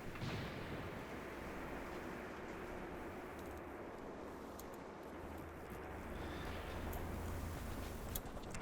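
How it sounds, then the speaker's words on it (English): Machine gun fire in the Graviteam Tactics war game, a steady dense roar of distant gunfire and battle rumble continuing throughout with no clear separate bursts. "Machine guns over here are beginning to get into the action"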